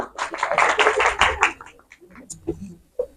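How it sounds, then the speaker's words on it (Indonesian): A church youth congregation at an anniversary service breaks into a short burst of applause that lasts about a second and a half, then fades as a voice carries on talking. "Tepuk tangan buat Brian"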